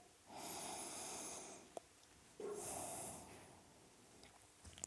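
Slow, soft breathing through the nose comes in two long airy breaths while a yoga posture is held in a quiet room, with a faint click between them.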